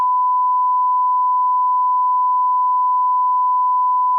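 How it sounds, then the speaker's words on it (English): A single long censor beep, a steady pure tone held loud and unbroken for about four seconds, alone with no other sound. "just put in a long beep and come back on that"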